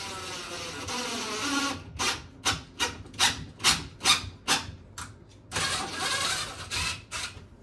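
A small pilot hole being drilled into a bathroom wall near a shower to find a stud. The drill gives short repeated grinding bursts, close and fairly loud, with pauses between them.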